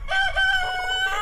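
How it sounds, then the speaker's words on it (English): Broody silkie hens vocalising close by, one loud drawn-out clucking call lasting about a second, alone without talk. "my two broody silkies are here"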